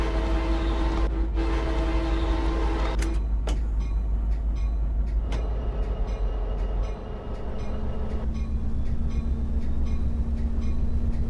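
A Pacific Surfliner passenger train in the Train Sim Classic game rolls steadily along the track, its horn blaring in long blasts early on and again in the middle, with a low continuous rumble and rail noise underneath.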